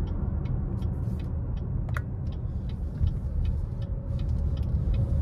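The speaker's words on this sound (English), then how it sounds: "So the V6 has plenty of pickup, even with it being naturally aspirated." A 2023 Chevrolet Blazer RS with a naturally aspirated 3.6-litre V6 accelerates, its engine a steady low rumble heard from inside the cabin, with faint ticking clicks over the top and no talk.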